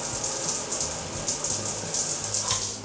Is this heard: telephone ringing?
no